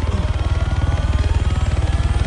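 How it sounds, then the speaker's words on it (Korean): Helicopter in the Arma 3 video game, a steady low rhythmic rotor thump that stays loud and even throughout, with no talking. "헬기 소리 납니다"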